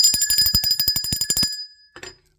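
A bright metal bell rings in a rapid run of clanging strikes for about a second and a half, then gives one last lighter ring that decays into silence.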